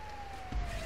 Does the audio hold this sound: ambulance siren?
yes